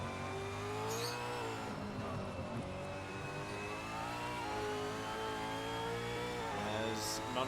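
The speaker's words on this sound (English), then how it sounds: "As Munro gets a little bit of a wheel spin coming onto the main straight" A V8 Supercar in a racing game spinning its wheels onto the main straight at Winton, a steady, loud, high-revving engine drone that rises and falls in pitch across several gear changes.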